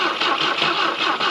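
Starter motor cranking a 1967 Volvo Amazon 122S engine, a steady pulsing churn with rhythmic compression beats, loud and close, without catching.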